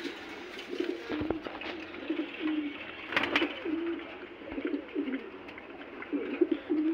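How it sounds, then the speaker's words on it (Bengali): Pigeons coo repeatedly while drinking water, soft rounded calls close by in a loose overlapping rhythm, with a few brief knocks and scuffles between them. "দেখছেন কবুতরগুলো পানি কিভাবে খায়।"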